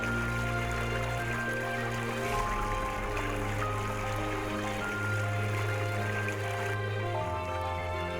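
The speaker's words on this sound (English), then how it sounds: "Let's look at this beautiful stream for a moment." A flowing stream gives a steady, unbroken wash of water that stays even in loudness throughout, heard alone without any talk.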